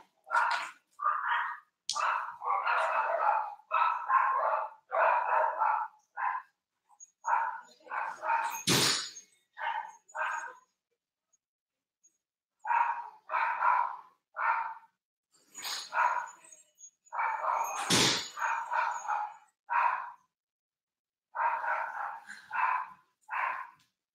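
Several dogs barking repeatedly in bursts, close and loud, with yips and short pauses between volleys and a couple of sharp knocks or thumps, no talking.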